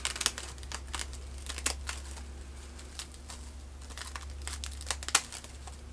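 Scissors cutting a dried homegrown luffa sponge along its natural openings, giving quiet crinkly snips and crunches in an irregular run over a low steady hum.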